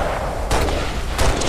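Rocket launcher fire in the Halo online multiplayer video game, two heavy, loud blasts about a second apart over a dense, roaring game mix.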